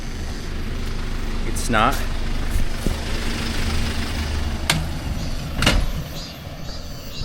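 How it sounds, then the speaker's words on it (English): A car comes up from behind on a road near the Korean DMZ, its engine and tyre noise building into a broad rumble under ambient outdoor noise, with a person speaking briefly nearby. "Here's a car coming up behind me."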